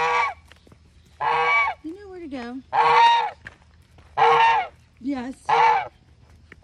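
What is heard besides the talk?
goose honking in a barn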